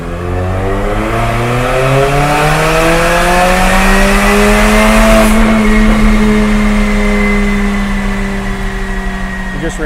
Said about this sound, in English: We're going to go ahead and dyno the Armytrix turbo back exhaust, and right now we're going to run this in the open mode.